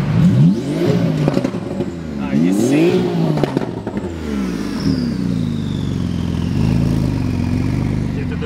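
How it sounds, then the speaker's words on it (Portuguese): Cars arriving at the Goldrush Rally 2022, including a GT2 RS, rev loudly nearby with repeated rising engine sweeps and a passing roar, while people talk excitedly over the noise. "Olha aqui, os carros, tudo chegando,"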